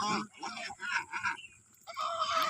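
Domestic ducks quack close by in harsh, overlapping bursts, pausing briefly before another round of loud calls.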